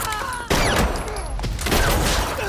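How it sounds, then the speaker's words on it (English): Gunfire in a crime film scene set in a quiet town, with a handgun fired during a stabbing: several sharp, loud shots crack out in quick succession, layered over a dense, busy background. "forcing Lori to fire her gun"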